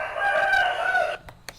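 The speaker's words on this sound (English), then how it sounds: "we're going to hear the first rooster." A rooster crows once, a loud, close cock-a-doodle-doo with a drawn-out ending, followed by a couple of faint clicks.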